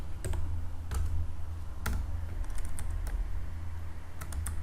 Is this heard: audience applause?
no